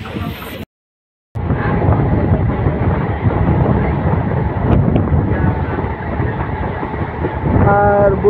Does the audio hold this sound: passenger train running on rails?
yes